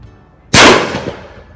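A Baikal break-action shotgun fires a single loud, close blast that cuts off suddenly and leaves a decaying echo, with no voices.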